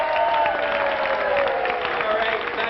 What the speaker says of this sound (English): So let's have a cheer for the A team.